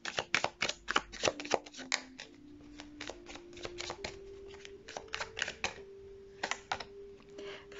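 Tarot cards are shuffled by hand in a rapid, papery flutter of riffles and soft taps, close and quiet, continuing in bursts with a faint steady tone underneath.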